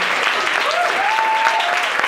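Steady, loud audience applause after a feminist talk, a continuous wash of many clapping hands throughout with a faint voice briefly audible underneath.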